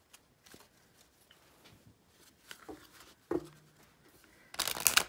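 A thick-cardstock US Games tarot deck is shuffled by hand, giving soft, quiet scattered card rustles and taps that build into a louder burst of shuffling at the end.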